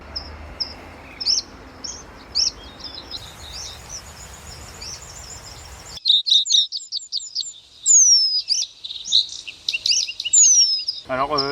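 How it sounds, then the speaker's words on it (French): Recorded bird calls and songs played back to lure birds into nets sound as repeated high chirps and whistled phrases, first over a noisy outdoor background, then louder and clearer against near silence, ending in a rapid trill. "le but là, ça va être de leurrer les oiseaux par le cri et leur chant"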